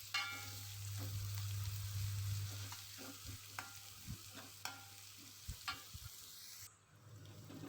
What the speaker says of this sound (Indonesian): Masuk serai sama lengkuas, diaduk-aduk sampai wangi.